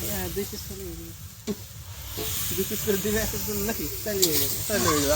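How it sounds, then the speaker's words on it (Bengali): Kosha mangsho, large pieces of meat braising in a pan, sizzles and hisses steadily at close range, with people talking over it throughout. "এই যে কষানো মাংস হচ্ছে।"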